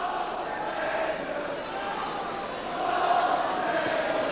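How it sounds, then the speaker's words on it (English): Altrincham supporters at a 1981 FA Cup third-round match against Liverpool, chanting and cheering as a distant, sustained crowd roar that swells slightly toward the end under a commentator's voice. "The Altrincham fans, never say die fans, still cheering their team on."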